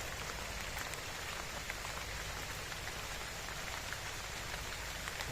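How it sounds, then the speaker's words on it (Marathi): Steady heavy rain pours down without a break on a farm, a dense hiss of drops hitting surfaces all around. "अचानक पाऊस आला आणि आमचं काम आता इथंच थांबलं आहे"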